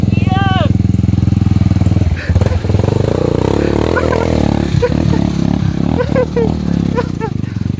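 Supermoto motorcycle in the jungle, its single-cylinder engine chugging loudly and close at a rough idle with uneven revs, while clattering knocks and a brief voice sound over it.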